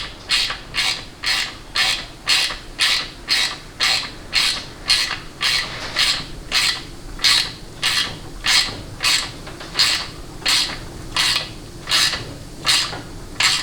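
A bolt run down by hand during a 4L80E transmission rebuild, with a steady, evenly spaced series of about thirty close ratcheting clicks that sound alone throughout.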